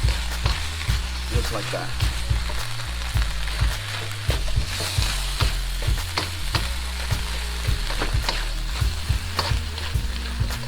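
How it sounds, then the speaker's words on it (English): Beef stir-fry ingredients for a Thai dish sizzle loudly in a wok while being tossed and scraped in quick repeated strokes, with a voice briefly speaking over the cooking. "Combine all of these ingredients together in the wok"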